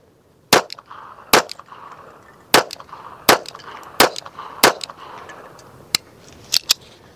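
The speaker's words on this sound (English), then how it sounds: "It's definitely not a real comfortable gun to shoot" A pocket pistol fires CCI Stinger .22 rounds, giving sharp, loud gunshots, about ten in total, at uneven intervals, each a close crack followed by a brief ring.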